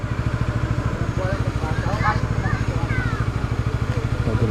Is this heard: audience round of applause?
no